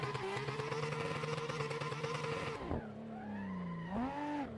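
In the racing game Assetto Corsa, a drifting Tofaş fitted with a Ferrari engine roars steadily, then the handbrake is pulled and the pitch drops into a sliding, wavering engine note with tyre noise. No one speaks.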